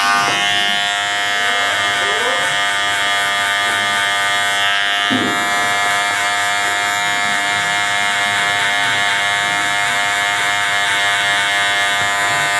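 Electric hair clipper buzzing steadily and continuously while cutting hair for a V-shaped fade from the bottom up, close and loud with no talking.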